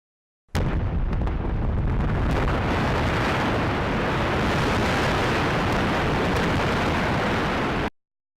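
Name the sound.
explosives blasting into mountains while mining iron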